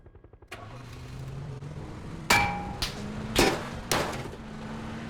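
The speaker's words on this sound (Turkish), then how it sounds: "arka taraftan bir ses, silah sesi" Several sharp gunshot-like bangs in PUBG, spaced irregularly, ring out over a steady engine hum, like game gunfire heard from inside a vehicle.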